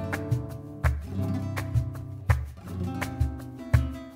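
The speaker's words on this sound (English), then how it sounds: "you'll see exactly how I apply the Five Finger Rasgueado. It sounds like this." A five-finger rasgueado strum on flamenco guitar: repeated bursts of fanned strokes, each a sharp rolling attack followed by ringing chords, about eight strums in a quick, uneven rhythm, close and alone.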